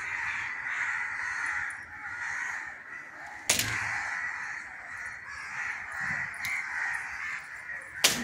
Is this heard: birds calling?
yes